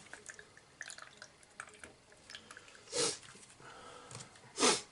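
Water poured through a small funnel while home brewing, faint intermittent drips and trickles with two louder gurgling splashes near the end.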